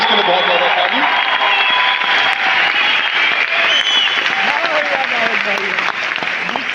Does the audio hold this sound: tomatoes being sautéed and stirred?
no